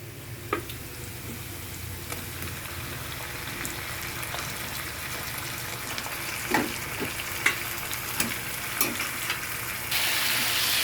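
Chicken frying in a pan with ginger garlic paste, turmeric and cumin powder, a continuous loud sizzle broken by scattered spoon scrapes and clicks as it is stirred.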